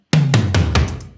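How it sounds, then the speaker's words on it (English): Tom drums from a future bass track hit four times in quick succession with a descending pitch, a short punchy fill that rings out and fades within about a second, loud and alone. "we also have these toms right here."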